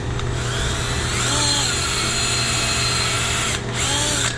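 A power drill bores steadily through metal while a Chevy distributor is converted for a Flathead Ford, the motor whining loud and close for several seconds with a brief dip near the end.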